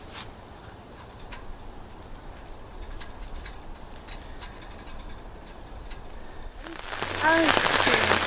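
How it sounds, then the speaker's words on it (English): Rain patters steadily on surfaces at a campsite, a dense near hiss with scattered drips, then swells abruptly into a louder, heavier downpour near the end. "it started pouring"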